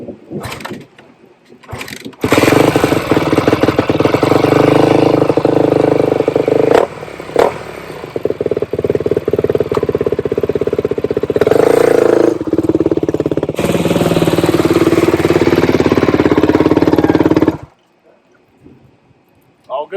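A 2008 Yamaha YZ250F dirt bike with a freshly rebuilt top end and high-compression piston starts and runs loud and near for about fifteen seconds, with blipping revs and a rattling, clattery idle, then cuts off.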